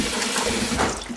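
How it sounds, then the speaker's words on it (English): Tap water runs into a cooking pot for pozole, a loud, close, continuous splashing rush that swells slightly midway through the short burst. "I'm just gonna fill up my pot halfway full."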